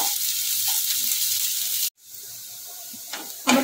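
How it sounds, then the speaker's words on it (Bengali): Sliced onions sizzle and hiss in a little oil in a pan for chana masala, a steady loud crackle that cuts off abruptly midway, then returns softer with faint stirring scrapes. "আমার পেঁয়াজটা যে ভাজা হয়ে গেছে"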